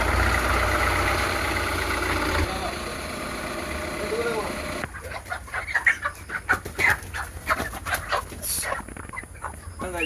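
Chickens on a poultry farm cluck and squawk in scattered bursts close by, alongside a dog barking and background machinery hum, while people talk during the first half.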